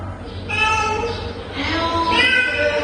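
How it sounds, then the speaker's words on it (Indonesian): Recorded cat meows played back in a classroom listening exercise: a few drawn-out, tonal mews in a row, fairly close and clear over a low background hum. "Kucing."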